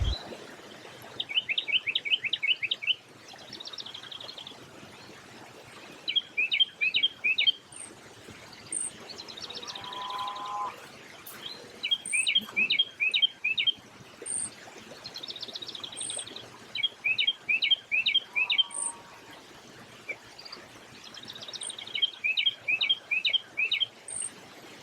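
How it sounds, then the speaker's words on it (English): A white-throated sparrow sings its clear whistled song in repeated phrases, interspersed with other high chirping bird calls, fairly close and standing alone without talk. "White-throated sparrow."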